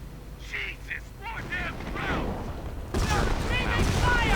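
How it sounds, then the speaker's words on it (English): Artillery fire falls on an American base in a World War II strategy video game, a rumbling barrage of booms that swells louder near the end, beneath a voice talking over the game. "Artillery on the American base."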